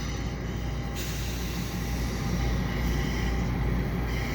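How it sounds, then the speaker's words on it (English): An EXO commuter train rolls through the Pointe St. Charles rail yard in winter, a steady low rumble with a continuous hiss throughout. "looks like another EXO train is moving"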